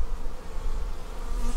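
Honeybees hum in a steady, dense drone around a newly introduced queen at a hive, close and continuous with no voices.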